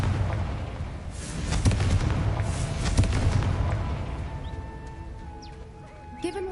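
Confringo explosion spell cast in a Harry Potter video game, heard as a rolling series of booming blasts and crackling bursts over a steady rumbling game soundscape, with chiming tones near the end.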